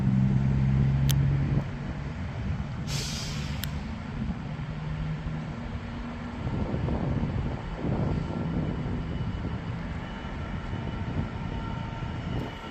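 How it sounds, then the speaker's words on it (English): A red DB Schenker Class 66 diesel locomotive grumbles steadily through Peterborough station on the East Coast Main Line, a low continuous engine drone with rumbling passing-train noise and brief higher squeals over about thirteen seconds. "I can hear the engine grumble of a class 66, and it's red. It's a DB Schenker."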